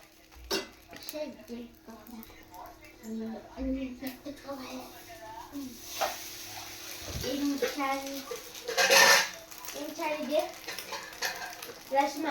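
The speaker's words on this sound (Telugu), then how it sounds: "సాంబారే కలుపు లోపలేసి" Sambar stirred in a metal cooking pot, a ladle scraping and clinking against the sides with wet sloshing, irregular and close, while voices talk over it.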